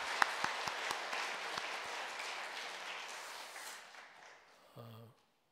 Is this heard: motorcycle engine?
no